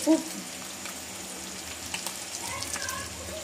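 Onions fry in rendered goat fat, a soft continuous sizzle and crackle with faint scattered pops, fairly quiet and steady throughout.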